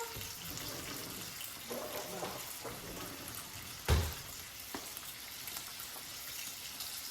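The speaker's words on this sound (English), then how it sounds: "Y'all hear that bacon?" Steady crackling sizzle of bacon frying in a pan, continuous and fairly close, with one brief clunk partway through.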